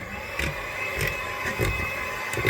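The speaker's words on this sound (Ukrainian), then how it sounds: "І беремо наш міксер і взбиваємо." An electric mixer whips cream for tiramisu in a home kitchen, giving a steady, close motor whir that swells in short, recurring bursts as the beaters work through the mixture.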